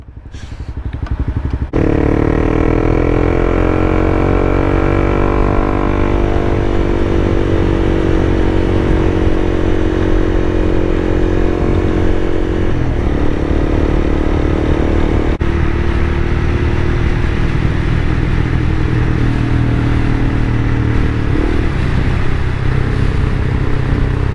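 A Honda CBR300R motorcycle fires up and pulls steadily uphill, its engine droning loud and continuous close by, the revs climbing and levelling under wind noise for the whole stretch.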